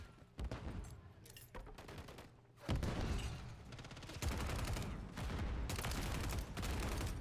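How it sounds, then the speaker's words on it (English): Gunfire bursts and explosive blasts from a video game firefight, including a stun grenade going off, with loud rapid volleys and booms repeating across the stretch at close range. "Throwing a stun grenade. Stun grenade out."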